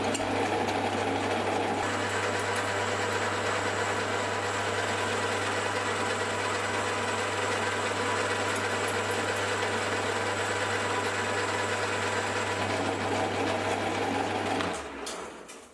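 A Hafco AL250G metal lathe takes a 0.5 mm cutting pass, its motor humming at a steady, close pitch with a faint continuous cutting hiss on top, running unbroken for about fifteen seconds before spinning down.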